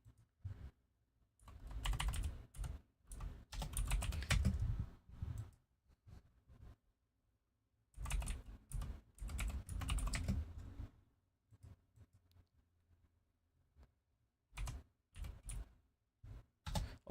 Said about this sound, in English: Is my mic way too close to the keyboard? I have like the one that like the buttons are so loud.